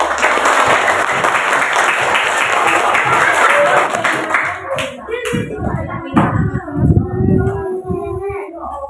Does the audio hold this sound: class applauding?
yes